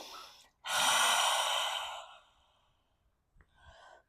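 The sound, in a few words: forceful exhale with tongue out during yoga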